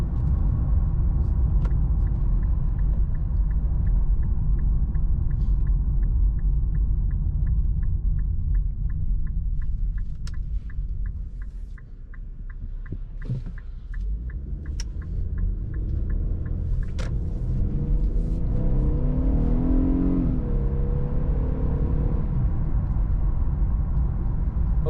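An Infiniti Q50 3.7 driven in sport mode on wet roads, heard from inside the cabin as a constant low engine and road rumble with a faint ticking, steady and close throughout with a brief dip midway and no talking.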